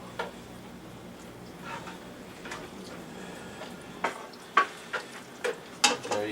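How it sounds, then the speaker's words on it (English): A spoon stirs Adolph's seasoning into a pot of chili on the stove, with a soft steady simmer and occasional light clinks and scrapes against the pot toward the end. "Stir the Adolphs in, make sure it gets equally distributed for right now."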